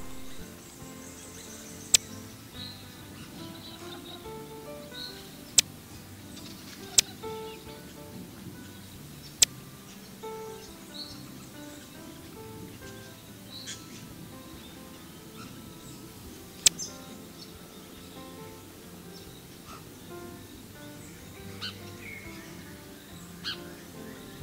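Assorted birds call and chirp steadily in the background, layered and busy, with a few sharp clicks popping out now and then.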